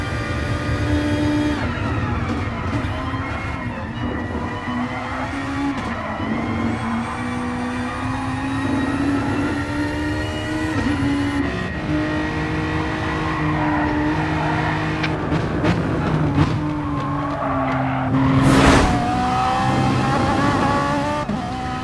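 A Hyundai Genesis Group 3 race car in a racing video game, its engine roaring loud and steady as it revs up and down through gear changes, joined by other cars, with a brief sharp burst near the end.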